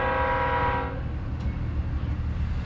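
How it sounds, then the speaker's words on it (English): A passing train sounds its horn in a sustained tonal blast that cuts off after about a second, leaving a low rumble of rail cars rolling by, fairly distant. "The train."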